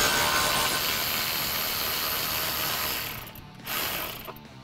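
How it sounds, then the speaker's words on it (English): A ratchet removing 8mm fan shroud bolts on a Ford Bronco clicks steadily and quickly for about three seconds, pauses briefly, then turns a few more clicks, close up with no talking. "Next, unbolt the fan shroud from the radiator,"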